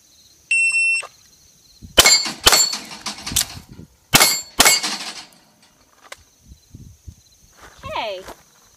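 Gunshots ring off steel targets at a range, a timer beep starting a string of sharp loud cracks, each followed by a bright metallic clang, coming in pairs with pauses between them.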